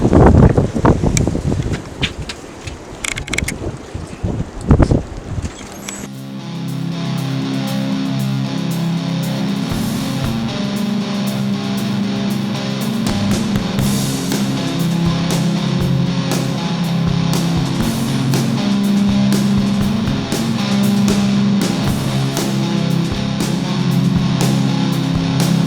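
Strong crosswind roars across a microphone during an easy gravel bike ride, with a few seconds of scraping and handling noise first, then a steady loud rush of wind that continues to the end.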